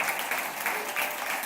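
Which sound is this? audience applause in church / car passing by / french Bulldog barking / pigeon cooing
audience applause in church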